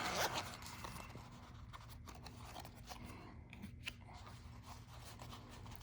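The zipper of a small pouch holding a pocket knife is pulled open up close. Quiet scratchy zipping and rustling is heard against a low background hum.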